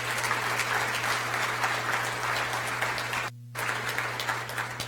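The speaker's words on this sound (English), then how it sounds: "So let's give them a round of applause." Audience applauding at a school district address, steady dense clapping over a constant low hum, with a brief cut to near silence before the clapping resumes.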